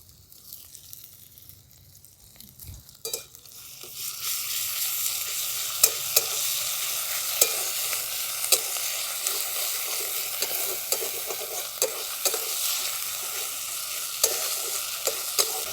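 Ginger, garlic and green chilli paste hits hot oil with browned onions in a pan, setting off a loud, steady sizzle that runs continuously, punctuated by occasional sharp clinks and scrapes of stirring.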